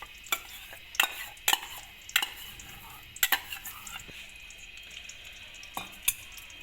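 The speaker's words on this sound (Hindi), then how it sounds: "अब हम दही को फेंटेंगे।" Half a kilo of yogurt is whisked in a bowl for dahi bhalle, with irregular sharp clinks and scrapes of the whisk or spoon against the bowl over a quiet background.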